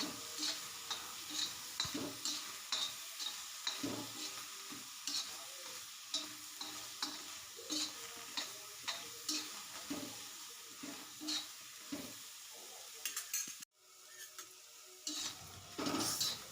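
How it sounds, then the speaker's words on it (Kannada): Green tomatoes being roasted in a pan for chutney, giving a steady soft sizzle with repeated scraping and stirring strokes, one brief louder clatter near the end, no talking. "ಈಗ ಹುರ್ಕೊಳ್ತಾ ಇದ್ದೀನಿ ನೋಡ್ಬೋದು ಫ್ರೆಂಡ್ಸ್ ತುಂಬಾ ರುಚಿಯಾಗಿರುತ್ತೆ ಕಾಯಿ ಚಟ್ನಿ ಟೊಮೊಟೊ ಕಾಯಿ ಚಟ್ನಿ"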